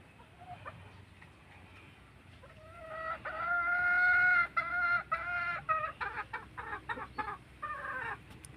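A Kelso Dark Side gamefowl rooster crows loudly in one long harmonic call, then breaks into a string of sharp clucks, standing close and alone over a quiet backdrop.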